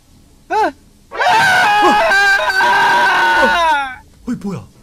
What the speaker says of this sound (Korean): 비명 소리가 들렸다.